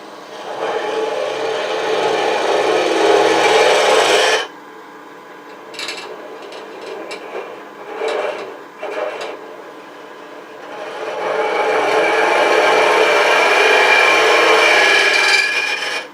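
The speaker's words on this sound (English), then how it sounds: "Now let's go finish hollowing it." A wooden fluted pot being hollowed on a woodturning lathe: a loud, continuous rasping cut that stops for a quieter stretch with a few short scraping touches, then resumes strongly and steadily.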